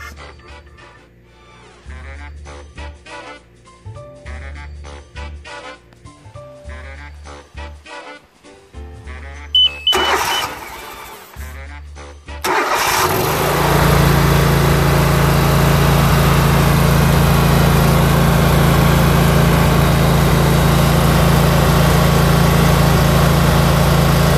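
Walker lawn mower with a freshly cleaned carburetor float and needle, a few cranking and sputtering attempts before the engine catches and settles into a loud, steady running drone.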